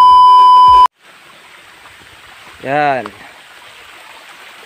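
A small farm stream flows with a steady, soft broadband rush, continuing evenly after a loud tone cuts off at the start, with a brief voice speaking over the water partway through.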